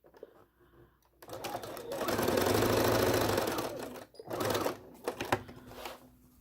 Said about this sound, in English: we're just finishing up sewing the 6 diamond points in